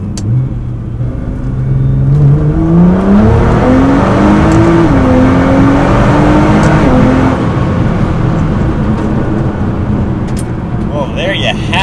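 A tuned Nissan GT-R launches hard from a standstill in race mode at full boost, its engine note climbing steeply through several gear changes, loud and close throughout.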